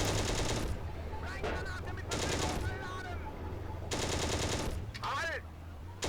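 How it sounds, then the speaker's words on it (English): An anti-aircraft gun fires in the World War II tank game Steel Fury, during an assault on an airfield in Operation Barbarossa. Rapid, loud bursts of automatic fire come in three clusters, with someone talking between them. "That is an anti-aircraft gun."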